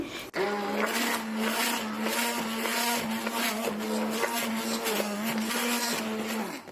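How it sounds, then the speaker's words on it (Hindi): A hand blender whirs loudly and continuously in a drink or ice cream mixture, its motor pitch wavering slightly as it churns, with a brief click at the start. "इस तरह से अब इसमें मैं हैंड ब्लेंडर चला के चलाऊंगी।"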